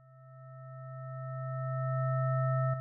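Ableton Wavetable synth tone with an envelope modulating the level of oscillator 2: a steady sustained low note with faint upper partials that swells slowly louder over about three seconds, then cuts off abruptly with a click.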